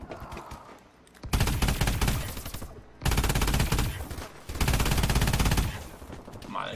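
Rapid automatic gunfire from a high fire-rate weapon in the video game Advanced Warfare rips out in three long, loud sustained bursts separated by short pauses.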